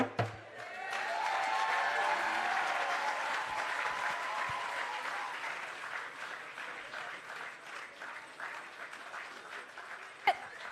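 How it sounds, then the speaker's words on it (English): An audience breaks into applause after a performance at a highway improvement project event, the clapping swelling quickly, holding strong for several seconds, then gradually thinning out, with a sharp louder clap near the end. "A round of applause for Adama and Andre."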